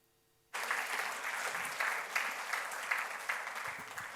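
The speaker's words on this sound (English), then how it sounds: "Let's make an applause to Andrea" Applause starts abruptly and continues as an even, moderately distant patter of many hands in a summer school lecture hall, with no talking.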